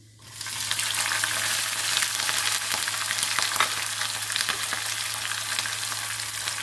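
Chana dal and green chillies frying in hot oil for mango pulihora, a steady broadband sizzle that starts softly and quickly swells to a constant loud crackle with faint stirring clicks, with a low hum under it and no voices.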